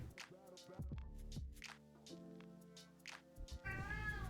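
Several distinct meows from a house cat at close range, separated by short pauses over a low indoor hum, ending with a louder, higher-pitched cry.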